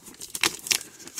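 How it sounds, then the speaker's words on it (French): Packaging being torn open on a HeroClix Deadpool Weapon X brick box, several short crinkly rips of paper or plastic in quick succession, close and fairly quiet. "Là, on va commencer par déballer la brique."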